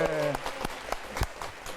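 A Korean church congregation serving as a TV studio audience for a Bible lecture show bursts into applause and cheering, with sharp claps and a voice over the crowd noise.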